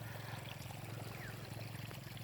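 Irrigation water flows into a rice paddy field, a faint continuous trickling and rushing under a steady low hum, distant and even throughout.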